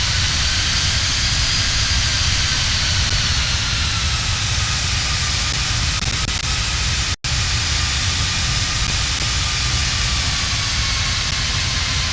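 Fenix A320 airliner landing in MSFS 2024, a continuous loud broadband engine and airflow roar with a faint slowly gliding tone, steady throughout apart from one momentary dropout.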